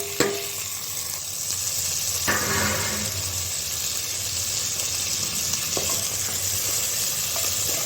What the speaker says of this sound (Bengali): ভালো করে সবগুলো আমি ভেজে নেব।